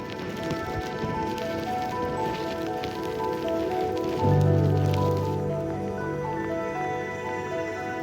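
Steady rain patters on surfaces around a long-distance cycling trip in Italy, a continuous hiss with a brief low rumble midway.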